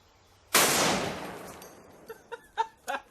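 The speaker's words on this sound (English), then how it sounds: "I just wonder if there's something that's even better at opening locks with one shot. Maybe like a Barrett 50 BMG." A Barrett .50 BMG rifle fired at a lock: one sudden, very loud shot with a long, decaying blast and echo, followed by a few short, fainter sharp impacts or clatters.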